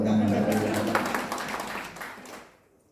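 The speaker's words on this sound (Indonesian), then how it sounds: "Ya, tepuk tangan." A church congregation claps along during a sermon, a broad crackling wash of hands over a lingering musical tone that thins out and fades away after about two and a half seconds.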